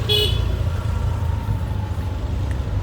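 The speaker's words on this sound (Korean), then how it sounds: "아 빵빵 하면서 가네." A car horn gives a short honk at the start on a narrow street in Bali, and an engine idles low and steady beneath it.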